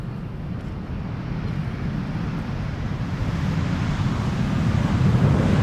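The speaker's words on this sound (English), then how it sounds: "There's actually a nice breeze here." Steady breeze rumbles across the microphone beside runway 18R at Amsterdam Schiphol, a continuous low wind roar that swells slightly toward the end, with no talking.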